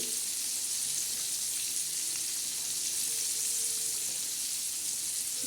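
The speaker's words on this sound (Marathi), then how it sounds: "तर हे बघा आपला पापलेट मासा कसा मस्त असा खमंग आणि असा छान असा तळत आहे" Pomfret fish coated with semolina, red chili powder, turmeric and salt fries in a pan, a loud continuous close-up sizzle with a steady hiss and no pauses.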